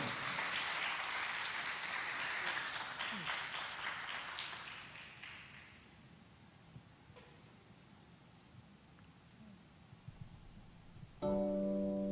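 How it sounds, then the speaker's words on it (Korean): An audience at a church worship service claps steadily for several seconds, fading to scattered claps, before music begins near the end. "우리 큰 박수로 청해 듣겠습니다."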